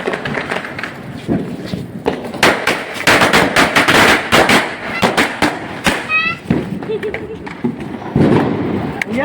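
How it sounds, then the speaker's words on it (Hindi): Rapid bursts of sharp cracks and pops from Diwali firecrackers going off, loud and irregular, with voices and shouting mixed in. "काफ़ी आवाज़ आ रहा था पटाखा का"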